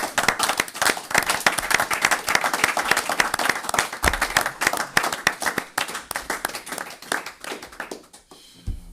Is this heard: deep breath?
no